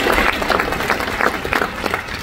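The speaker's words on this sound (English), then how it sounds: "round of applause, that counts" A live audience gives a round of applause, steady dense clapping with some crowd noise, loud and close, lasting the whole moment.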